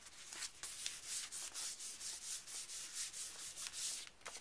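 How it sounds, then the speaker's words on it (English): Paper pages of a handmade mini album being burnished by hand, a rapid series of close rhythmic rubbing strokes, steady and fairly loud, with no talk. "And burnish your inside."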